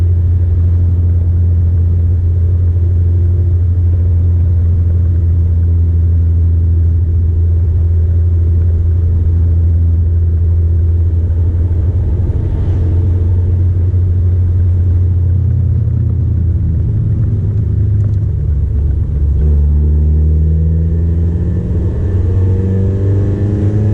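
A 2004 Nissan Sentra SE-R Spec V gives a loud, steady engine rumble while driving. Near the end the pitch drops and climbs again as it shifts from fourth to fifth and sixth gear.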